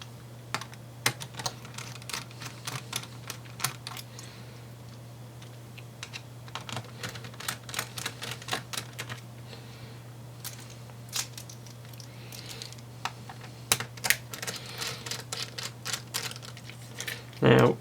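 Small screws being undone from the SATA drive bracket of a Dell Inspiron 15-3510 laptop, heard as a series of close, light clicks and ticks scattered over a steady low hum, with a louder clatter at the very end.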